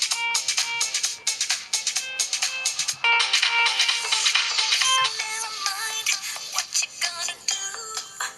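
A melodic ringtone plays through the small speaker of an HTC ChaCha phone, bright and tinny, a loud continuous tune of quick repeated notes with nothing else in the background.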